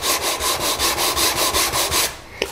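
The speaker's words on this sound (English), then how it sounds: "I'm going to sand that piece down" Rhythmic back-and-forth sanding strokes on a spalted wood box, about ten steady passes at close range with a scratchy, broadband rasp, ending with a brief tap.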